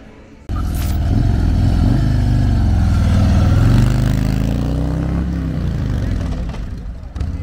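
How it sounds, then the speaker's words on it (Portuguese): A newly bought motorcycle's engine starts abruptly and runs loud and close during a test ride, a steady low throaty drone with slight pitch shifts, easing off near the end. "Tá testando, galera, a moto,"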